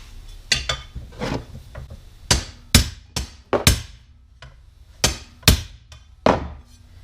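Hammer taps on a crash-damaged TaylorCraft RC plane under repair, roughly a dozen sharp, close knocks in irregular bursts, some louder thwacks standing out, with no talk.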